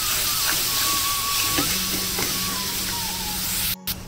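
Chicken mince frying in oil for chicken kochuri filling, a continuous loud hiss of cooking with a faint tonal whine running through it and a short break near the end; no talking.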